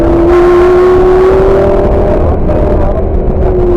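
Lamborghini accelerating on a track, its engine droning loudly and steadily close by with a slowly rising pitch as throttle is added.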